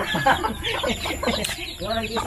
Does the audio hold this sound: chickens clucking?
yes